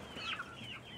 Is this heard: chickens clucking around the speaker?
yes